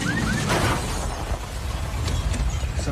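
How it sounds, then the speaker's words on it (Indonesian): Loud, continuous crashing and rumbling of destruction from a disaster film as an earthquake collapses roads and buildings, with scattered bursts and shattering debris throughout. "Terlihat di situ jalan-jalan yang runtuh dan gedung-gedung yang mulai roboh."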